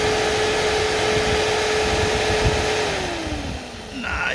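Electric cooling fan on a 2005 Mercedes E55 with 165k km, running as a steady loud broadband whoosh with a constant whine that drops in pitch near the end as the fan spins down.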